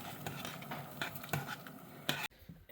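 A spoon stirs salt into vinegar pickling brine for preserving asparagus, giving soft irregular scraping and clinking against the container, with a sharper knock near the end before the sound drops away.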